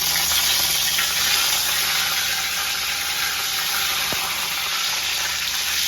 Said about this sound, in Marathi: तेल आपलं जरा जास्त गरम झालं. फोडणीचा एकदम मस्त आवाज येतो तडतडीत.